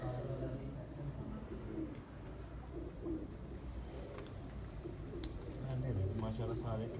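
Low, rolling coos from racing pigeons at a Punjab pigeon-flying competition run beneath faint background voices and steady hum, with a few sharp chirps and clicks breaking through.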